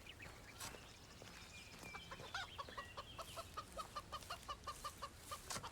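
A chicken clucking in the video game Of Ash And Steel, a quick run of regular clucks that grows steadier toward the end, faint beneath an ambient game backdrop.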